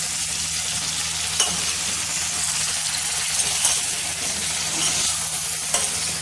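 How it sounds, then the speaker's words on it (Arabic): Lung and tripe sizzle steadily in a pan with garlic while being sautéed, a constant close frying hiss broken by occasional soft scrapes of stirring. "هكمل هشوح الفشة والكرشة في التومة بتاعتي"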